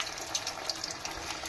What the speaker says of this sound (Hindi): अब मैं इसको गर्म ऑयल में फ्राई करूँगी।